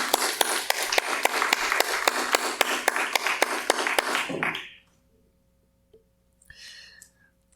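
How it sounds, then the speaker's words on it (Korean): A church congregation applauds during a Sunday worship service, with steady dense clapping for about four seconds that stops abruptly, followed by near silence and a faint stir. "격려의 박수로 또 함께하길 원합니다"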